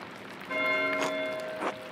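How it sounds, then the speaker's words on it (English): Church bell ringing in the video game Pentiment, a faint tolling with a lingering metallic hum, struck again about half a second later. "Why is Matthew ringing the bell?"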